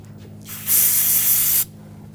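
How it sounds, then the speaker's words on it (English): Brake parts cleaner sprays from an aerosol can onto the intake of a 2.0L TDI Volkswagen Jetta, one loud, steady hiss lasting about a second, close up, in an otherwise quiet workshop. "A little brake parts cleaner and a rag."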